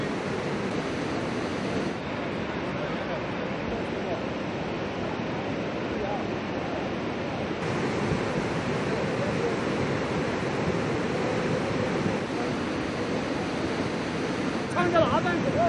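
Floodwater rushes against a riverbed during flooding in China, giving a dense, constant roar of churning water that stays loud and unbroken throughout, with no clear voices.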